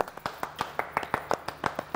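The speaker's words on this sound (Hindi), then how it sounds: "इसी बात पे तालियां" Clapping on a Pakistani TV talk show, a thin scatter of separate, crisp hand claps in an uneven rhythm, fairly faint and close, with gaps between the strikes.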